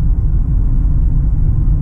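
Mercedes C-Class engine and transmission hum steadily inside a well-insulated cabin, a continuous low rumble with no talk over it.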